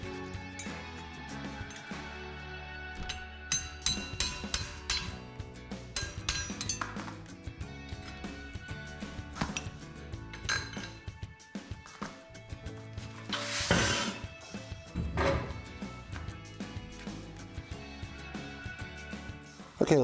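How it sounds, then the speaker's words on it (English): A heavy hammer drives a pin out of a pop-up camper lift system, making irregular, close metallic clinks and knocks. Scraping and rubbing noises are mixed in across a long stretch, and no one speaks. "You want to use a heavy hammer for this job."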